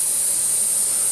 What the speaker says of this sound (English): Lightly spray this side here.